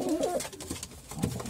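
Racing pigeons from a single breeding family in a loft coo softly, with low rolling calls at the start and again near the end, no talk.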